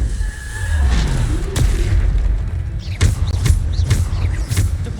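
Descendo spell impacts in the Hogwarts Legacy video game land as deep booms and a series of sharp bursts, loud and close over rumbling low game ambience.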